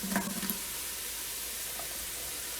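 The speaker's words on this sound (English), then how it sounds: "Now you can hear this sauteing in here" Beef stew ingredients for an Italian spezzatino saute inside a pressure cooker, giving a soft, even hiss of sizzling after a few quick scraping stirs at the start.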